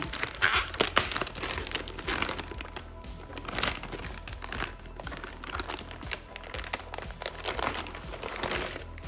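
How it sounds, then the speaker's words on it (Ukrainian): Crinkly antistatic plastic rustles and crackles in quick irregular bursts as a thin bag holding a motherboard is handled and pulled open close by. "Материнська плата у нас, звичайно, аж в антистатичному пакеті. Відкриваємо його."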